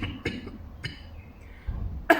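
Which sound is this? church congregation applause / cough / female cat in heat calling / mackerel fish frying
cough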